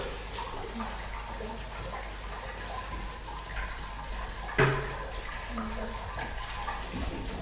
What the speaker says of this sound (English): just as we come to the end of adding the water in